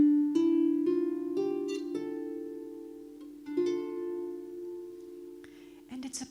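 A harp plays a slow, minor-sounding old Irish hymn, plucked notes ringing and overlapping with long decays, a pause midway before the phrase resumes, then a few soft rustles at the end.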